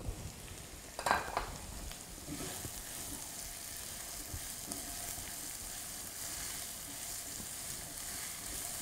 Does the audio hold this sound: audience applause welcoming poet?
no